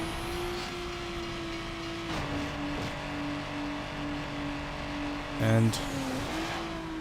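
A street racing car in Need for Speed: Underground on PS2 roars with a steady engine drone as nitrous is fired, with a brief surge and shift near the end. A voice speaks quietly underneath.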